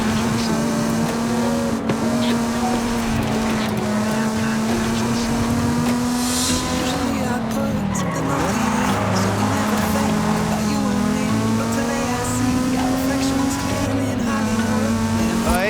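A Mazda Miata in the Forza Horizon racing game cruises through dark, spooky woods at the base of a volcano, its steady engine drone holding near and loud throughout, with a slight dip in pitch midway.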